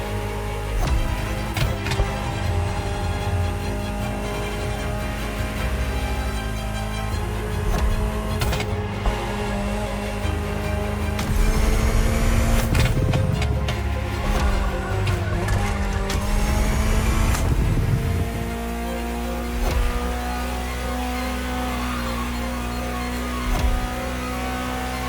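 A Ferrari supercar in The Crew Motorfest racing game drives steadily for the whole stretch, a strong engine drone shifting pitch through gear changes, with occasional tire squeal and a surge of revving mid-way, loud and close, no talk.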